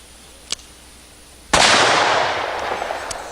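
A Smith & Wesson Model 29 revolver fires a full charge load, one loud, sharp blast close by after a small click, followed by a long fading echo.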